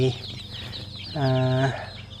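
Day-old chicks of various breeds, including light Sussex and Coronation, peeping in a brooder: a dense, continuous chorus of high chirps, with one louder rising-falling call near the middle.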